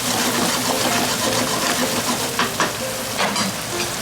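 Tomato sauce for braised sea bass sizzles and bubbles steadily in a pan, a continuous close frying hiss with occasional stirring scrapes and spatters.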